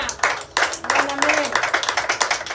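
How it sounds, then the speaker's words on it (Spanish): A church congregation clapping hands together after a sermon, dense rhythmic applause heard close and fairly loud, with a voice briefly rising over it. "Dele palmas."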